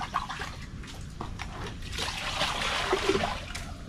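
Water trickles and splashes steadily while fresh tilapia is handled for adobo and frying, a continuous nearby liquid dribble with occasional brighter drips and splatters.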